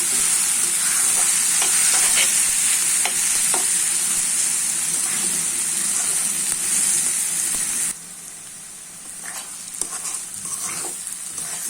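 Dried fish and onions sizzling steadily in a hot pan, with scraping stir strokes throughout; the frying hiss drops noticeably partway through and continues more quietly.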